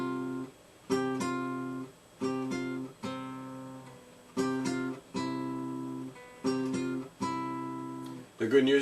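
A guitar plays a fingerpicking exercise in C with thumb and middle finger, giving a steady pattern of plucked notes repeated in even groups. It sounds quiet and close, with no talking.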